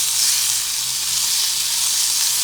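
About six strips of bacon fry in a pan with a loud, steady, close sizzle, a bright hiss that holds even throughout.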